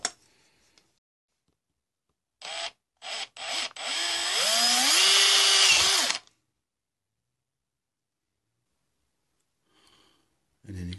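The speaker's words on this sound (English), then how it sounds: "since we're going to drill in it, we might as well just drill" A power drill whirs in several short bursts, then runs continuously for a couple of seconds drilling into an LED light bulb, its pitch dipping under load, followed by quiet.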